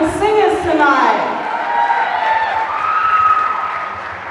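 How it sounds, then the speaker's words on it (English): A crowd claps and cheers for singers at a Pacific-style 21st birthday celebration, with whoops and lively voices mixed in, holding steady at a close, full level throughout. "Another round of applause for our beautiful singers tonight."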